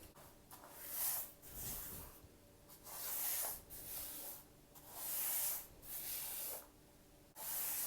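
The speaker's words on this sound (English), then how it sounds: "I'm adding a generous amount of the top coat to the floor." Top coat glaze spread generously across a painted floor, heard as soft repeated swishing and rubbing strokes with brief pauses between passes, close and fairly quiet with no talking.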